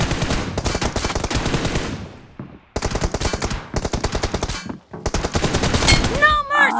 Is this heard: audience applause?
no